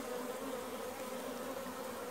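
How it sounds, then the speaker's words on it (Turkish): Honeybees buzz at the entrance of a weak colony's hive, a dense, steady hum that stays constant and close for the whole stretch. "Arılar sol taraftan içeriye girecekler."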